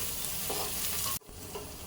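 Ground coriander and garam masala fry in a pan for a fish biryani, giving a steady close sizzle with stirring scrapes, then a brief drop near the end before the frying noise resumes. No voices.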